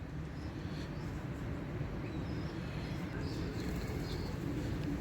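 A blue pigeon coos among a pigeon flock kept for sale, soft low calls repeating under a steady, busy background hum with occasional higher chirps.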